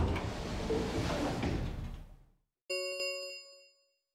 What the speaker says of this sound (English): the warehouse was filled with the rumbling sound of the door sliding shut